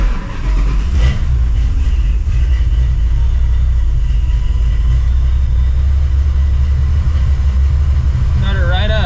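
A cammed, supercharged 1999 Mustang GT V8 runs steadily just after its first start, a loud continuous rumble throughout, with a voice speaking briefly over it.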